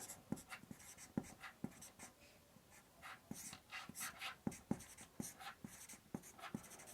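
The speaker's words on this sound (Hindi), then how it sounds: "मैं यहाँ लिखता हूँ स्वामी विवेकानंद" Pen strokes of handwriting sound close and faint, with short scratches and taps in an irregular rhythm and no speech over them.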